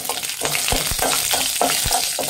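Cardamom, fennel and black pepper sizzle and crackle in hot oil for biryani, a steady frying hiss broken by sharp pops and the scrape of a stirring spoon.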